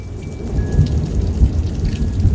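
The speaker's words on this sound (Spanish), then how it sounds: "empezó a llover así aquí. Y un viento terrible." Heavy rain pours and strong wind roars through a severe thunderstorm in Ottawa that brought down a tree, with low thundery rumbles under a loud, continuous wash and no speech.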